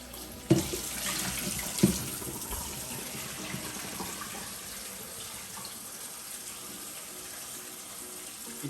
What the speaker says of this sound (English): we need to wash it very thoroughly in the cold water